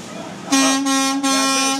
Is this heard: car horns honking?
yes